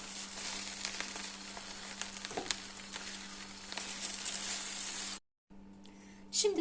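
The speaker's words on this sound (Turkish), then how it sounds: "Tereyağını erittikten sonra içerisine ekmeklerimi koyarak bir bardak su ilave ettim." Bread sizzles and fries in melted butter with a little added water in a pan for iskender, a steady close crackle with occasional stirring scrapes, briefly cutting out near the end.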